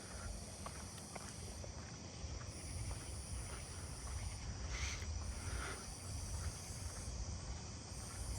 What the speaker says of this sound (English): southern ground crickets